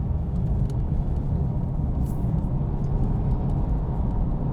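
A 2018 Mercedes-Benz E400d with a 6-cylinder turbo diesel accelerates hard, a steady low rumble and road roar heard from inside the cabin, continuous and fairly loud without any speech.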